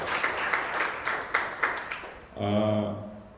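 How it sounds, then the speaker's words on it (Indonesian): Scattered applause at a school event, a handful of separate claps and short bursts of clapping, then a voice starts talking as the clapping ends. "Jadi tepuk tangan untuk teman-teman semua ini"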